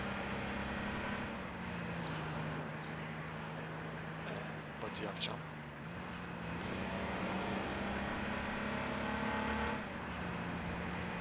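A police car's engine in the online survival game H1Z1 drones steadily with shifting pitch as it revs and eases, a continuous mid-level hum beneath a voice chatting over it.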